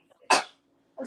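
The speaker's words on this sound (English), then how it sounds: "I usually sneeze in threes." A single loud, close sneeze bursts out sharply, followed a moment later by the start of a voice.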